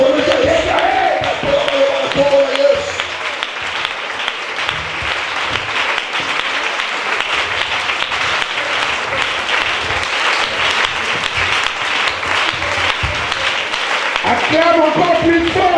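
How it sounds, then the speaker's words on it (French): A church congregation claps and cheers loudly during a Sunday service, a dense, sustained roar of applause and shouting, with voices calling out over it at the start and end. "Commence à battre les mains"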